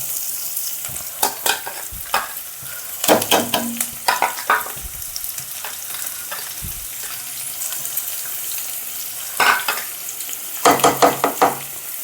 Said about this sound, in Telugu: ఈ తాలింపు వేగాలండి కొంచెం.